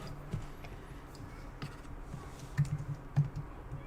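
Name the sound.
typing on a computer keyboard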